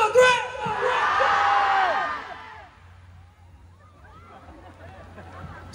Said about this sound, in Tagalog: Aurora, pwede ba kayo sumigaw yung saan, yung napakalakas?